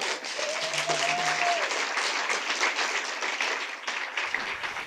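Steady applause from a conference audience fills the whole stretch, dense and fairly close, with a brief tone and a voice near the start before the clapping fades at the end.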